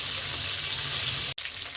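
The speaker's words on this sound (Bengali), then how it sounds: "মাছ ভাজা হয়ে গেছে।" Fish fries crisp in a wok with a loud, steady close sizzle and dense crackling, briefly cut by a sharp dropout near the end.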